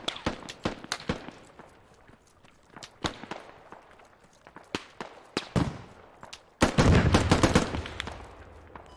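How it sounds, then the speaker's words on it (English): Bursts of rifle and machine-gun fire in the military shooter Squad, sharp cracks and short rattling volleys at varying distances, then a dense, louder close-range barrage near the end. "Let me hear those guns."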